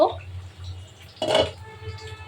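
A lid is lifted off a pot of thin red-lentil khichuri, giving one brief clatter of metal near the middle, close and fairly quiet over a low steady hum.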